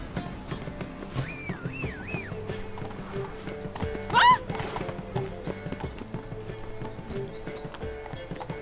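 Geralt's horse Roach in The Witcher 3 game trots with steady clip-clopping hooves, gives one sharp, loud whinny partway through, and keeps clopping under faint background music, with brief spoken lines around it.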